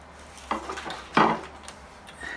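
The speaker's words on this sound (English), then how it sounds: "On the ones that do have any excess, I'm going to shave that down with a knife. Just cut it off with the razor blade." A razor blade shaves excess glue off the tips of wooden arrows. Two short, dry scraping strokes sound close by in a quiet room, the second one louder, with a faint scrape coming near the end.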